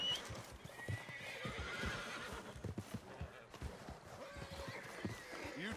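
A horse in Red Dead Redemption 2 clops along with irregular hoofbeats that sound fairly close, and a faint whinny rises over soft, quiet ambience.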